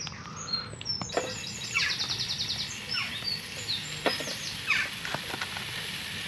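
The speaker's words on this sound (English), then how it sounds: "You can hear all the birds" Several birds chirp and sing in the trees in quick, bright calls over a soft background hiss, some close and some farther off.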